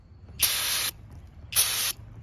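Two short bursts of brake cleaner aerosol hiss onto an O2 sensor from a 2015 Buick Verano exhaust system, each loud, close and steady for about half a second, with a pause between.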